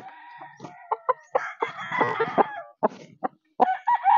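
A rooster crows loudly and close by, its call broken into several harsh bursts with brief pauses between them.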